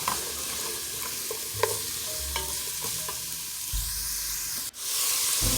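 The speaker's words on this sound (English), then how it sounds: "give that a mix. And let that saute for a couple minutes." Carrots and other cabbage soup vegetables sauté in a pan with a steady hiss and sizzle, a few stirring scrapes and soft clinks along the way, ending in a sharp clatter followed by a surge of sizzling.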